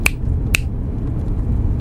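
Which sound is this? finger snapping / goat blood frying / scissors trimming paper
finger snapping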